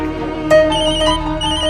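Telephone ringing with an incoming call, a short electronic ringtone with bright repeating tones, loud and close, with no talk over it.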